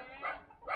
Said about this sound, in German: Ihr habt ein paar Hunde, man hört's.